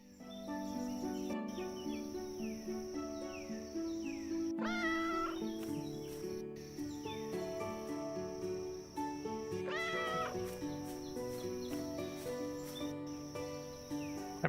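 Kittens meow in the farming open-world game Everdream Village: two clear, rising meows stand out about five seconds apart over a steady bed of game music and chirping insect ambience.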